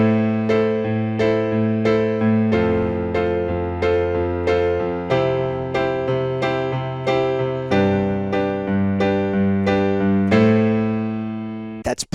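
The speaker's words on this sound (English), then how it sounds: "I'm going to switch around the way that I play this chord progression with my right hand" A piano plays a chord progression with the bass line held steady while the right-hand voicings are rearranged: about a dozen evenly spaced, ringing chord strikes, close and clear, with no talking.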